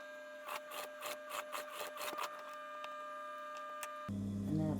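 A sewing machine stitches a half-inch turning along the top edge of a fabric face mask, running in a quick series of short rhythmic bursts close by, then stopping as a steady low hum takes over.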